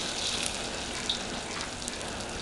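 Garlic and onion fry in hot oil for mee goreng with a steady, moderately loud sizzling hiss and a few small crackles, and nobody speaks.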